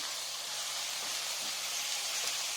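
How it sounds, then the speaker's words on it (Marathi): Tomatoes sauté in a hot pan with a loud, dense, continuous hiss and sizzle that holds steady throughout, close up and with no voices. "आता आपण टाकूयात टोमॅटो चांगलं परतून घ्यायचं आहे"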